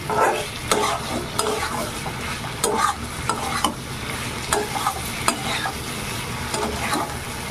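A spoon stirs jackfruit seed curry with roasted cumin powder in a pan, scraping in irregular strokes over a steady low sizzle; the sound is close and there is no talk.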